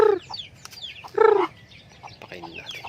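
Hen with her chicks on a native chicken farm, soft clucks and a few louder calls in short irregular bursts, nearby and moderately quiet, with faint peeping and low voices in the background.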